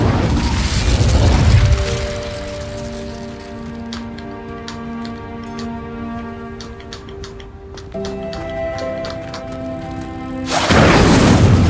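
Incendio fire spell in Hogwarts Legacy, a loud whooshing burst that fades into ticking, mechanical clicks and sustained tonal hums, then another loud rushing burst at the end.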